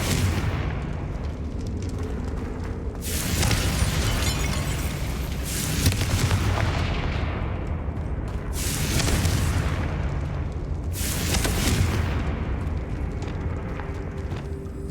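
Heavy booming blasts from the Confringo fire spell in Hogwarts Legacy, with several loud explosive bursts spaced a few seconds apart over a continuous rumbling roar.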